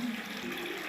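Water pours steadily out of a bottle as air enters it, a continuous close splashing gush that fills the moment without any voices.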